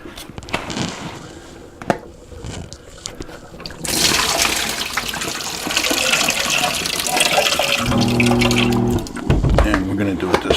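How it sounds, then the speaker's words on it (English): Rinsed, soaked cabbage for kimchi being drained, water pouring and splashing out steadily for several seconds after a few handling knocks, with a person speaking over it. "So now we're going to just get rid of"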